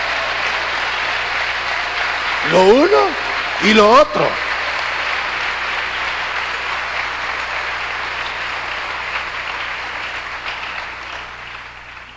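A church audience at a Spanish-language sermon on revelation and spiritual gifts applauds steadily for about twelve seconds, the broad clapping running under a preacher's voice that speaks briefly near the start.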